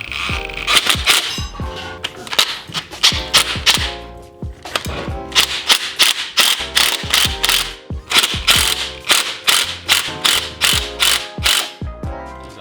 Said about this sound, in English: we need the spring compressor